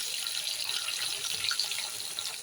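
Capsicum frying in hot oil for chilli chicken, a steady close sizzling hiss that carries on without pause and has no speech over it.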